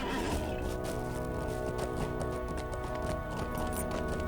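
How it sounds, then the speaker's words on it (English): Horse hooves while riding in the Lord of the Rings Online video game, with a steady, fairly faint clip-clop of galloping under a layer of sustained tonal background music. "So I think right now we can take a ride on horse."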